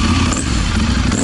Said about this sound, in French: là ça se cale sur le ralenti, qui est vraiment un ralenti un peu irrégulier